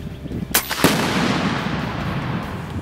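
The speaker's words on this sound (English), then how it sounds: "the target is 150 feet with an explosive Tannerite backing" A .25 caliber Sam Yang Sumatra airgun shot strikes an explosive Tannerite target 150 feet away outdoors, giving two sharp loud cracks in quick succession followed by a lingering rumbling boom that fades slowly.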